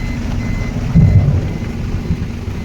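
Steady heavy rain at Jagulia with a low rumbling wash and a brief louder swell near the middle, no voices.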